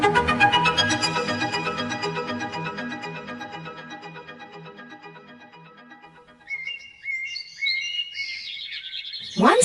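A little bird chirps and whistles in a rapid trilling run that fades, followed by a few separate bright tweets, clear and close with no talking.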